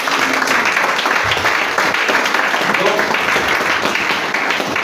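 A church congregation applauds together, a steady dense wash of clapping that fills the space from start to finish, with voices mixed in beneath it.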